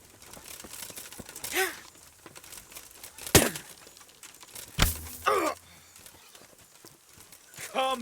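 Horse hooves clip-clop in the medieval game Kingdom Come: Deliverance, a few uneven steps mixed with brief whinny-like cries, heard beneath bursts of game character voices.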